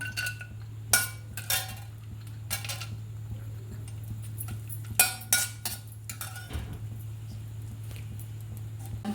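Almonds frying in hot ghee in a pan while a spoon stirs them, with a steady low sizzle under sharp metallic clinks and scrapes against the pan.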